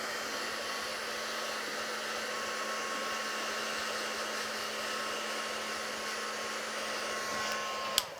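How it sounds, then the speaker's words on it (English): Heat tool blowing steadily to dry a shaving foam background on card, a constant close whirring hum with a fixed tone, running alone and clicking off at the very end. "I'm going to just give it a quick blast with the heat tool"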